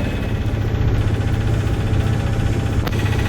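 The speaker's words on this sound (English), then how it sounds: "There's not much wind this week, so it's gonna be a lot of motoring." A sailboat's inboard engine runs steadily while motoring in calm weather on the Swedish coast near Mollösund, making a close, loud, even low throb with a slight vibrating rattle and no talk.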